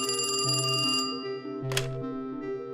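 A telephone rings with a loud electronic warbling tone in repeated bursts, a short gap and a brief noisy burst between the rings.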